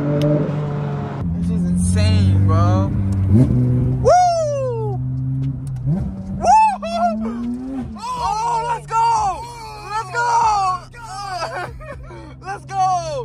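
A Porsche GT3 RS engine revs hard, pitch sweeping up and down in sharp throttle blips, with people talking excitedly over it.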